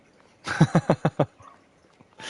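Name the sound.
American-style tipper truck growling like a dog in Farming Simulator 22 video game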